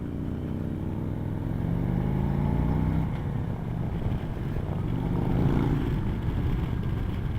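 A Harley-Davidson Sportster motorcycle's engine runs close by during a road test ride, a loud, steady, throaty rumble that swells slightly toward the end, with no voices.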